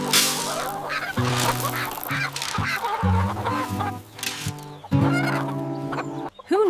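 Chickens cluck on a snowy farm, several birds close by with repeated rhythmic clucks and squawks, loud and continuous with no talk.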